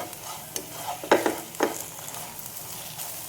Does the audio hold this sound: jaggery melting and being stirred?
yes